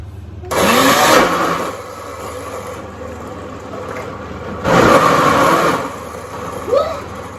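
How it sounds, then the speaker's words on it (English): Kitchen blender crushing spaghetti sauce ingredients in loud roaring bursts, one near 0.5–1.7 s and another around 4.7–5.5 s, with a quieter steady hum and stove gas noise between them. "I'm still blending. To crush it again."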